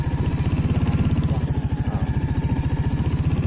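A motorcycle engine idles close by with a steady, rapid thumping pulse that holds evenly for the whole stretch, with no voices over it.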